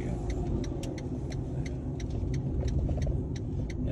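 Street traffic at night in Rome, with a steady low rumble of cars passing nearby and occasional faint higher clinks over the continuous road noise.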